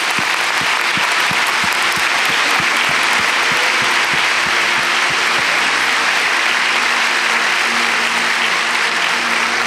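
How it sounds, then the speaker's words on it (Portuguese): Congregation applauding at an Easter church service, a steady wash of many hands clapping, loud and continuous without speech. "Uma salva de palmas àqueles que nasceram de novo."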